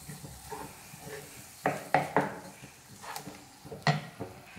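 Roasted coconut is stirred into melted jaggery in a pan for poha laddu, making a handful of quiet, irregular scraping and stirring strokes close by, with no talking.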